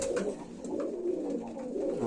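Pigeons in a winter loft give a steady, close, continuous murmur of cooing with soft overlapping calls throughout, no speech.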